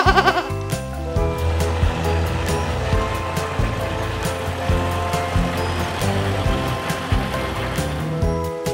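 Goats bleat repeatedly, close and fairly loud, over a continuous washing background like surf.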